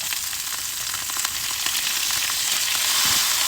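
Chicken wings sizzle and fry loudly in a pan as vinegar goes in, with a dense, continuous crackling hiss that builds slightly toward the end.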